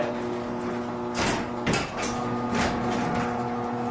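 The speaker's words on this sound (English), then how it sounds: "The door actually jams itself into the operator extension bracket" Garage door on a drawbar-type opener hitting an obstruction at the pinch point and jamming into the operator extension bracket: a steady mechanical rumble broken by a few harsh scraping, grinding bursts, close up.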